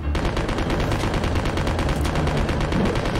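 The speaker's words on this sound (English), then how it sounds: "You fell victim to Steve's submachine guns" Sustained submachine gun fire from Steve in Resident Evil Survivor 2 during a boss fight against Nosferatu, rapid continuous bursts rattling loudly and steadily throughout with no talk.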